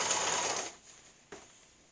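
Sewing machine stitching fabric while sewing a girl's dress, a short faint whirring run that stops abruptly, followed by a brief click and a small mechanical noise at close range.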